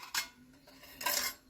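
Small plates and spoons handled close by, giving two bright clattering bursts of metal and dishware clinks with a quiet pause between, no talk.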